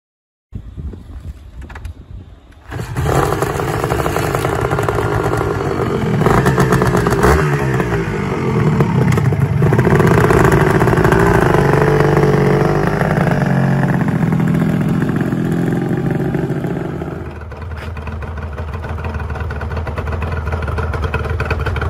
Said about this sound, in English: Number 7, the Aprilia RS250.